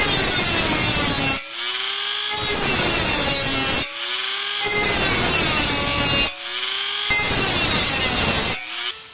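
A Dremel rotary tool cuts around the outer circle of a metal wood gas stove, with loud, harsh grinding passes close up, broken by short pauses roughly every two and a half seconds as the tool lifts and restarts.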